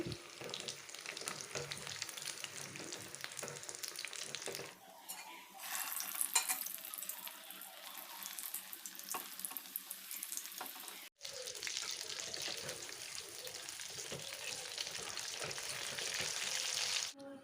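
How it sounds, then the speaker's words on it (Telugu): Aloo samosa rolls fry in oil over a medium flame, giving a continuous close sizzle that briefly drops out and returns, with faint stirring and no talk. "ఇలా వేసుకొని ఫ్రై చేసుకోవాలి. ఫ్లేమ్ అయితే మీడియం ఫ్లేమ్లో పెట్టేసుకోవాలి."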